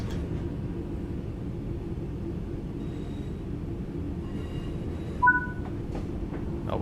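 Steady electric multiple-unit rumble from a West Midlands Railway Class 323 train in Train Sim World 3, a constant low drone with faint high tones and a brief electronic chirp partway through, no talking.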